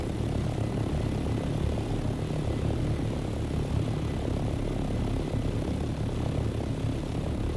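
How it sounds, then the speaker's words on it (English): In the Dune Awakening video game, a helicopter hovers nearby, producing a loud, steady rotor and engine drone that holds constant throughout. "Oh, there's another chopper nearby."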